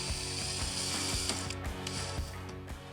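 Ratcheting tool clicks steadily while backing out a trim screw on the outer front fairing of a 2014-or-later Harley-Davidson Street Glide, a fast, even, close metallic pawl rattle that runs continuously with no talk.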